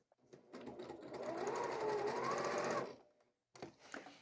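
A sewing machine stitches quilt block seams in a scrap quilting session, running in one loud, steady burst of rapid stitching for over two seconds, then stopping briefly before a shorter burst starts.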